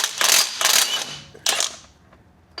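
A ratchet turning a 1.25 inch socket on an 18-inch extension to remove a Jeep Gladiator or Wrangler transfer case flange nut: a few quick metallic clicking ratchet strokes, close and sharp, ending with a faint click.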